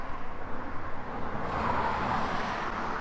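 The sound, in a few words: road traffic noise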